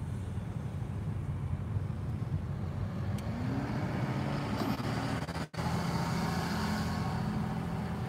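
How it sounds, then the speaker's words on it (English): Steady low road rumble and passing traffic heard from inside a moving car in Snellville, a continuous engine and tyre drone with a brief dropout near the middle, no talking. "It's always dang traffic."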